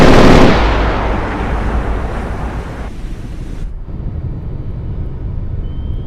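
Submarine torpedo launch in the Cold Waters naval game, South China Sea setting: a loud, sharp broadband blast that fades into a long rushing rumble, settling into a steady low hum with no talk.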